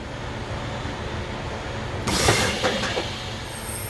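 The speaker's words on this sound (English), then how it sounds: "I'm going to have my mechanic Matt hit the brakes" A truck's air brakes being applied during a brake check, a sudden loud burst of hissing air cutting through steady engine rumble, followed by a shorter hiss and continued idling.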